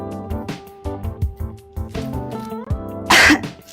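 One person lets out a single sharp, loud cough-like burst near the end, following a stretch of light background music.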